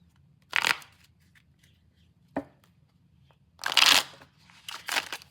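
Tarot cards being shuffled by hand, heard as several separate bursts of riffling and slapping, the longest cluster near the end, close and clear over a faint low background hum.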